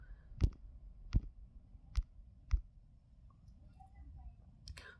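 Four sharp, distinct computer mouse clicks spaced roughly evenly apart, close and fairly quiet, followed by a faint final click, with no talking over them.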